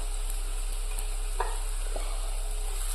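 Kashmiri chili powder stirred in a frying pan for a mackerel chili curry gives a steady low sizzle of hot oil, with a few soft scrapes and taps of the spoon against the pan.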